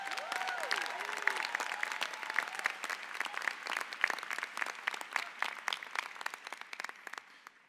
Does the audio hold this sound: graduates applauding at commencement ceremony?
yes